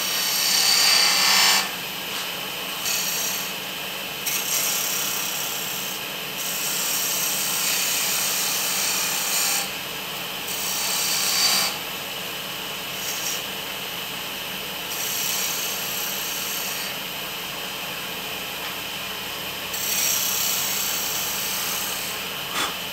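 A wood lathe spins steadily while small wooden toy figures are turned, a continuous whirring hum with scraping bursts from the gouge cutting the wood, heard close and without voices.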